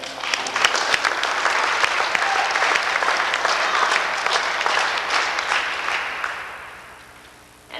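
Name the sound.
audience applause at award night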